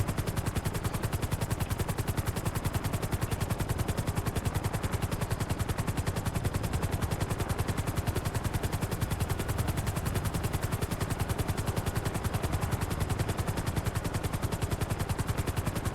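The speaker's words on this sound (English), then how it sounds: "Cool thing about this helicopter, the Swift Deluxe I think it is, it's actually pretty quick." The Swift Deluxe helicopter in GTA V flies steadily, its rapid, even rotor chop loud and continuous throughout, close and unbroken with no pauses or voices.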